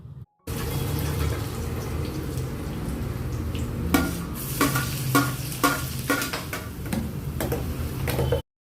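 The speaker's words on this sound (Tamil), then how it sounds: "இதில் பொடியாக நறுக்குன இஞ்சி, பூண்டு, அப்புறம் வெங்காயம் இதெல்லாம் நல்லா இப்போ வதக்கிக்க போகிறோம்." Steady sizzling of chopped ginger, garlic and onion frying in butter in a pan, with a spoon repeatedly stirring and scraping against the metal in clinking bursts.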